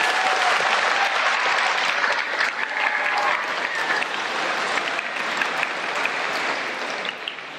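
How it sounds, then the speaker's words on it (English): An audience at a Veterans Day ceremony applauds steadily and fairly loudly, with a dense wash of clapping that carries on throughout and eases slightly at the very end. "Please let them both another round of applause."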